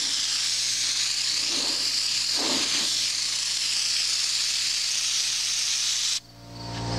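An engine cleaning gun sprays degreaser onto a garden tractor with a loud, continuous airy hiss for about six seconds before it cuts off abruptly, leaving a low hum.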